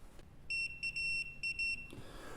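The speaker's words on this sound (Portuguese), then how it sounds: "Coloca até um multímetro na escala do bip, do buzzer." A multimeter on its continuity setting gives a series of short, shrill electronic beeps in an uneven on-off rhythm while probes touch a faulty microwave display board, clear and close in a quiet workshop.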